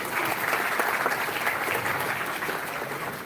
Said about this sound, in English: please enjoy, you should clap not for me but for yourself